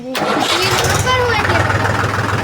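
A Mahindra tractor engine cranks and catches almost at once, then settles into a steady, loud, close idle, with people talking over it.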